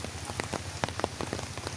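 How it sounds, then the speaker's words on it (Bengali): Rain pattering on leaves during a rainy afternoon, quiet scattered drops striking irregularly over a soft continuous hiss, with no voices. "দেখেন কত সুন্দর বৃষ্টি পড়তেছে"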